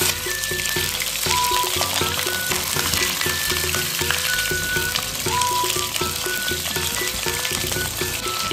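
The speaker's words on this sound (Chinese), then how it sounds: "锅里先加点油滑锅，然后把鱼摆进来煎香" A whole fish pan-fries in oil in a wok with a loud, constant crackling sizzle that holds steady and close the whole time.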